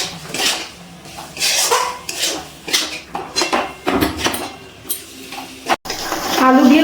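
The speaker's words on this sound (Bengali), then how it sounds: "আলুগুলো দিয়ে আবার একটু মশলার সাথে কষিয়ে নিচ্ছি খুব ভালো করে" Fried potatoes are stirred into spice masala in a pan, giving repeated scraping and clinking strokes of a utensil against metal in an irregular rhythm, close up and fairly loud, with a soft sizzle between strokes.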